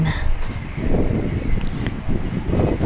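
Strong wind on a mountaintop campsite buffets the microphone in a steady low roar, gusting in waves throughout with a faint rustle on top.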